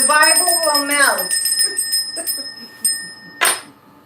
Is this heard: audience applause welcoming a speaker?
no